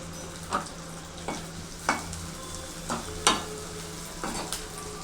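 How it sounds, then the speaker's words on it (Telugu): Onions and two green chilies frying in a kadai give a steady low sizzle, broken by about seven short scraping stirs at fairly even intervals, close and moderately quiet, with no talking. "బాండీ పెట్టి బాండీలో ఆల్రెడీ ఆనియన్స్ వేసేసాను. అందులో 2 పచ్చిమిర్చి కూడా వేసాను."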